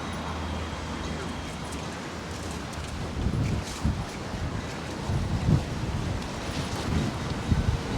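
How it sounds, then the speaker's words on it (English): Strong thunderstorm winds blow through palm trees outdoors as a rough, gusty rush with some microphone buffeting. Louder gusts surge in the middle and near the end. "These palm trees will give you a bit of a sense of how windy it is right now."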